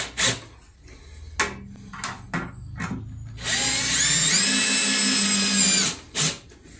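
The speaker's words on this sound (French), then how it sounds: "je viens visser mon bâti par l'intérieur" A power drill drives wood screws into a door frame on a plasterboard partition, with short bursts of motor whir, then a longer sustained run as a screw sinks in, close and loud.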